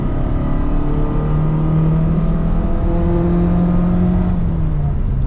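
A naturally aspirated Renault Megane Coupe engine revs loudly and close by, a steady throaty drone whose tones climb and hold, with no talk over it.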